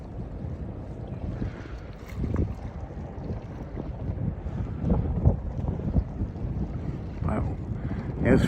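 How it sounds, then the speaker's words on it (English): A strong winter wind whips across the shore at Conneaut, Ohio, roaring and buffeting in uneven gusts that swell louder toward the end, with faint background rumble. "this wind is just whipping"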